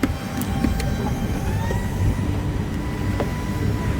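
A train rumbles across a bridge over the Yarra River in Melbourne, a steady low rolling roar with faint wheel squeals and clicks, heard from nearby below amid outdoor ambience.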